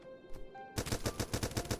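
Durasteel Pistol fire in the Starbound video game: after a few faint tones, a fast steady burst of about nine sharp, loud shots rings out in even rhythm.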